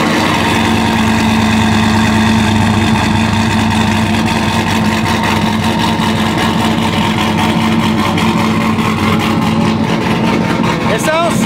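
A truck engine fitted with a Texas Speed Performance cam idles loudly and steadily, its choppy, uneven lope holding for the whole stretch alongside a faint voice.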